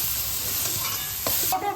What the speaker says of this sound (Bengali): গলা পর্যন্ত আমি কষতে থাকবো।